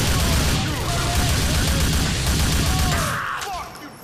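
Dense gunfire rattles in a GTA game scene, rapid overlapping shots under a loud chaotic mix that thins out toward the end.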